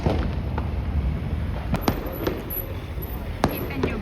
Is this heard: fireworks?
yes